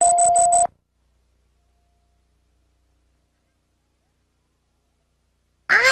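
A short electronic telephone ring or beep sounds briefly at the start, then cuts to silence, with another brief electronic tone arriving right at the end.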